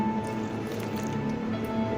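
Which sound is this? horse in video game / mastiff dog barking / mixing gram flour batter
mixing gram flour batter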